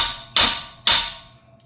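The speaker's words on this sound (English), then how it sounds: "you gotta hit them with the hammer, drive them through" A hammer drives suspension parts through during engine removal on a 2011 GMC Acadia, two sharp, loud metallic strikes about half a second apart, each ringing briefly before fading.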